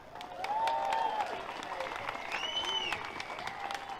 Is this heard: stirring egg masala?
no